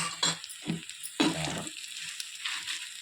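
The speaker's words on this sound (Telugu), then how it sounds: "కారం వేసుకుని కల తీసుకోవాలండి" A spoon stirs chili powder into roasted bitter gourd (kakarakaya) in a pan, making a few short close scraping bursts separated by brief pauses, with no voices.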